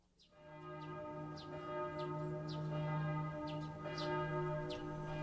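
Church bells ringing at early dawn, a steady sustained toll with evenly spaced strikes layered over a humming resonance, loud and continuous with no voices.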